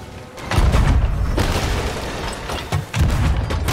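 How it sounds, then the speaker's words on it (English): A firebomb bursts in a video game, with deep booming blasts that swell in, hold and then return as a second heavy thud near the end, loud and close. "Firebomb out. They're on fire."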